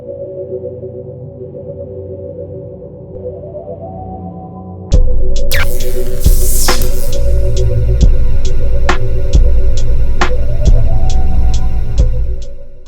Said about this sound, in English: So this is my favorite part, clipper over comb.